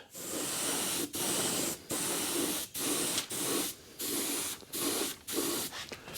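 A spray gun coats the bottom of a car's windshield frame in a garage, firing a string of steady hissing bursts, each about half a second long and separated by short pauses.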